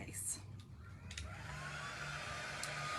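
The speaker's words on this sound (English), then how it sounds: "I'm gonna just hit this with a dryer just" Handheld hair dryer blowing over chalk-painted rustic kitchen decor, starting with some handling clatter, then settling into a steady close whooshing hum that runs to the end.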